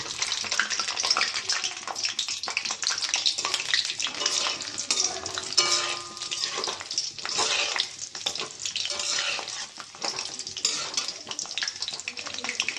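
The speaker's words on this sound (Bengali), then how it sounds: "এবার এটা দেবো শিমলা মির্চ, হালকা করে ভেজে নেব।" Capsicum and beans frying lightly in a pan give a continuous bright sizzle, close and steady, broken now and then by scraping and stirring noises.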